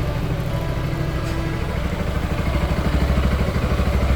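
A modified Yamaha XMAX scooter idles at 1500 rpm, a close, steady, throbbing engine putter with a faint mechanical clatter, rising slightly in loudness toward the end.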